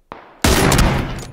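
Gunfire in PUBG: a faint distant shot followed by a loud, close burst of fire that rings out and slowly fades.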